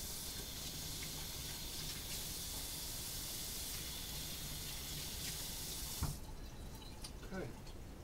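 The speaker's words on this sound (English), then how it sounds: "Wash my hands off." Tap water runs steadily into a sink while hands are washed, a continuous close hiss that cuts off abruptly and is followed by a few knocks and drips.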